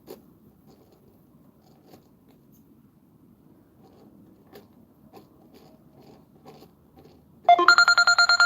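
A mobile phone starts ringing abruptly near the end, a loud repeating electronic ringtone close by, after several seconds of near silence broken only by faint small clicks and knocks.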